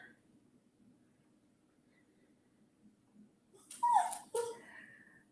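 A dog whimpers and cries briefly close by in an indoor room, two short whining bursts after a quiet stretch with low background hum.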